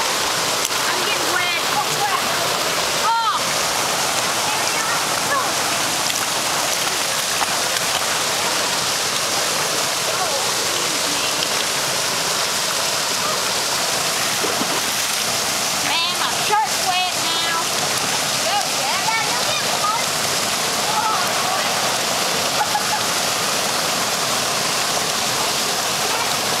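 Little Missouri Falls waterfall roars as a steady, dense wash of falling water close by, with people talking briefly over the constant rush.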